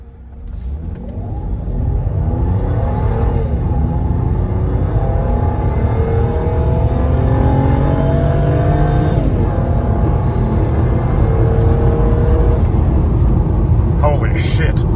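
A red Mercedes W124 engine revs up hard under acceleration, its rising tone climbing repeatedly through the gears over a loud, continuous road rumble heard from inside the car.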